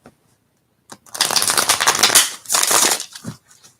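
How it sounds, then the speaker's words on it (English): Tarot cards being shuffled in two brisk riffling bursts, crisp and close, with a short pause between them. "All right, one more shuffle"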